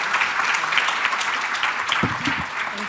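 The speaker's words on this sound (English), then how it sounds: "Can everybody give our leaders a big round of applause?" Audience applause for the leaders at the close of a leaders' panel event, steady dense clapping from a crowd throughout, with a few brief voices near the end.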